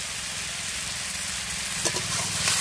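Green chillies and fried bottle gourd crackle as they are stir-fried together in a pan, a steady close sizzle with a low rumble beneath it and a couple of faint scrapes toward the end.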